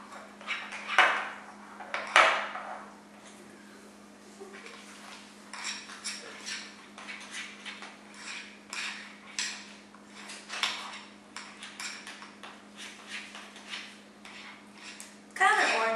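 Confetti cake batter mixed in a bowl with a utensil, giving a steady series of scraping clinks and taps against the dish close by, with louder knocks near the start and end under a faint background hum.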